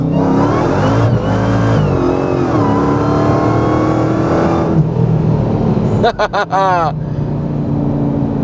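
A Dodge Challenger muscle car's engine revs hard in second gear and climbs in pitch as it accelerates, close and loud, with a person talking over the roar.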